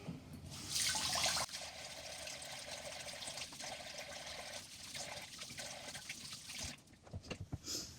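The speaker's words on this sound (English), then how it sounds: "Wash my hands again." Running kitchen tap water splashes steadily as hands are washed beneath it, a close continuous rush with small shifts and drips that ends with the flow cut off near the finish.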